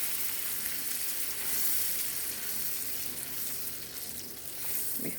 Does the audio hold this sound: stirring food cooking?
yes